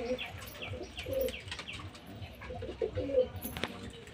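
Pigeons coo repeatedly inside their lofts, low throaty rolls recurring every second or so, mixed with light chirps and a brief flutter of wings, fairly close.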